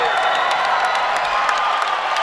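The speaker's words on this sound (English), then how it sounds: "That brings the crowd to their feet." A crowd roars and cheers in a gym during a boys' high school basketball game against Theodore Roosevelt, a loud sustained wash of voices with scattered whoops and clapping.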